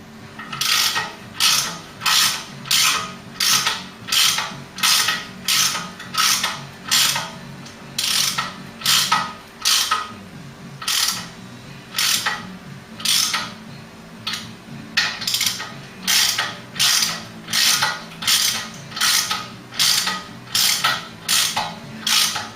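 A ratchet tightening brake caliper bolts on a Ford Cortina during a classic car restoration, giving steady repeated rasping clicks in a regular back-and-forth rhythm, close and clear with no talking.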